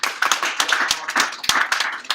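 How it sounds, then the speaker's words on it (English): Audience applause for a volunteer, a dense, steady wash of many hands clapping close by that keeps up evenly throughout, with a few sharper individual claps standing out from the crowd. "Let's give our volunteer a round of applause"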